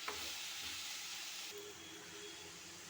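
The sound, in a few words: sautéing drumstick leaves in a pan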